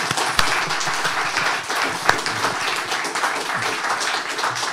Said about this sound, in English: A warm round of applause for Cecil.